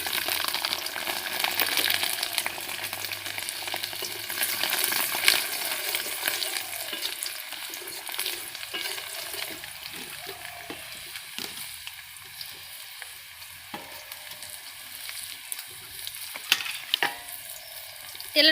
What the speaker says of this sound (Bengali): তেলের মধ্যে দিয়ে দিচ্ছি দারচিনি, এলাচ আর লবঙ্গ।